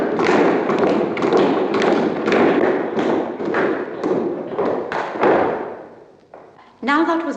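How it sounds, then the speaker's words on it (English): A team of clog dancers pounds out a dance in heavy rhythmic thuds, repeated stamping that fills most of the stretch before it briefly drops away and a short tonal sound follows. "The Portmaddock team were the first clog dancers to appear in public."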